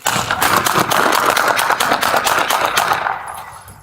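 A rapid burst of many gunshots during a police bodycam shootout, loud and close, a dense continuous volley lasting several seconds before cutting off.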